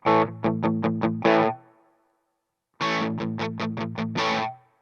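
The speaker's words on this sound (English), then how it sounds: "a bit more compressed, a bit more sustain, and a little bit more distortion" A distorted electric guitar through a Laney Loudpedal plays two quick bursts of repeated chugging chords, each ending in a sustained ringing chord with a reverb tail, separated by silence.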